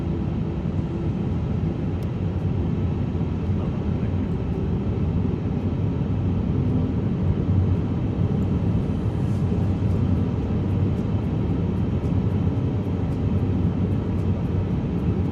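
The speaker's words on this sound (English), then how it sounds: "We're looking to take off 2190." An Airbus A350-900 in Microsoft Flight Simulator 2024 rolls down the runway for takeoff, its engines giving a steady, loud, broadband roar that holds at one level throughout, with no talking.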